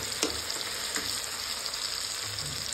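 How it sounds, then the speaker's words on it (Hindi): Onions and tomatoes fry in a pan for palak paneer masala, a continuous close sizzle with a few sharp spattering pops and light stirring scrapes, no talking. "पहले प्याज को गोल्डन कर दी, फिर टमाटर डाल रही हूँ"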